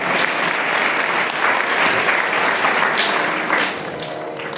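Loud, dense applause from an audience at a religious purana gathering at a math, sustained evenly throughout and easing slightly near the end.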